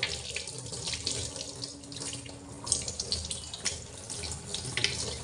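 A kitchen tap runs steadily into a sink while food is being washed, a continuous close splashing with small irregular surges and drips, no voices over it.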